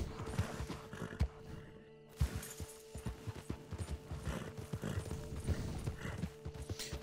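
Horse hooves clip-clop in a steady, irregular trot in the video game Red Dead Redemption 2 online on Xbox One, with a faint whinny and a few mechanical clinks at low volume and no speech.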